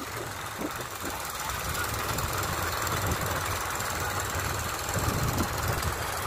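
Generator engine running steadily on a bamboo fishing platform at night, a continuous low rumbling drone with a faint knocking rhythm, moderately loud and constant throughout.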